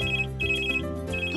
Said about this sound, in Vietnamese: điện thoại cứ reo suốt